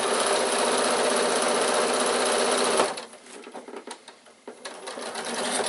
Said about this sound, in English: Sew to the corner, stop with your needle down, turn, and then sew back up the other side.